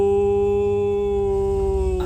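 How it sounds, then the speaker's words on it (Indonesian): A dog howling in one long sustained wail with a steady pitch, close and loud, tapering off with a slight waver at the end. "Anjing melolong"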